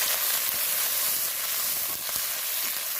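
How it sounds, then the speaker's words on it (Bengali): Onions sizzle and fry in hot oil with two bay leaves in a wok, a steady bright hiss with faint stirring clicks, close and continuous without any voices. "আলু ভাজার কড়াইতেই আমি আবারও তেল দিয়েছি দিয়ে তেজপাতা দুটো ফোড়ন দিয়েছি আর দিয়ে দেবো এর মধ্যে মিডিয়াম সাইজের তিনটে পেঁয়াজ"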